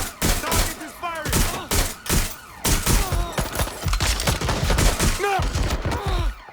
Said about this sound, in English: Target is firing!